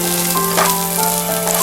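Ginger garlic paste and green chili fry steadily in a kadai for South Indian spicy chicken, giving a close, continuous sizzle with a faint hum and no talking.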